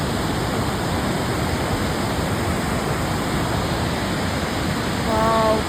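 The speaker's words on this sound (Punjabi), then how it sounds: "ਪਾਣੀ ਬਹੁਤ ਜ਼ੋਰਾਂ ਨਾਲ ਚੱਲ ਰਿਹਾ ਹੈ" Fast-flowing mountain stream on the trek to Hemkund Sahib, a loud, dense and continuous rush of water close by, with a brief voice near the end.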